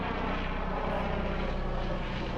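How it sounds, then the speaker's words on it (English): Rotor and engine drone of an Apache helicopter overhead, a steady pulsing thrum with a low rhythmic chop, moderately distant and unbroken. "That's my helicopter coming in."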